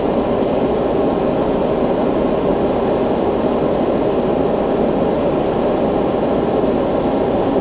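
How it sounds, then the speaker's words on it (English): Airbrush spraying paint onto a plastic model kit, a loud, steady airy hiss that holds without a break from start to finish. "My airbrush is being a little sticky."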